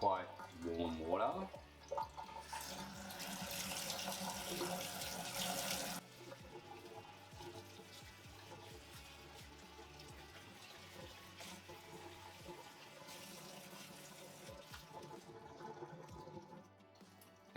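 Quite warm tap water runs steadily into a sink while a second-hand Totally Hair Barbie doll's long hair is washed, a continuous splashing flow with shifts in intensity.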